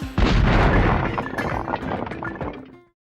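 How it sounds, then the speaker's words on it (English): A big video-game explosion as the birds' ammunition building is destroyed in a kids' game: a heavy boom with crashing, breaking debris and clinks that decay over about three seconds into silence. "What an explosion!"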